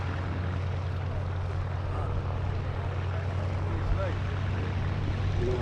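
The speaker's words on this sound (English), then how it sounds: "The three fighters coming out of the sun" WWII Corsair and Mustang propeller fighters fly past at an airshow, a steady, continuous drone with a constant low hum throughout, fairly distant and even in loudness.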